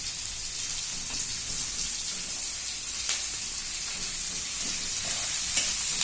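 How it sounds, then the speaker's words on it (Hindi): Chopped onions fry in a pan over a medium gas flame until golden, for a dahi fry dish. A steady, dense sizzle and crackle runs throughout at an even level, close and continuous, with no talking. "अब प्याज को जो सुनहरा होने तक हम चलने देंगे।"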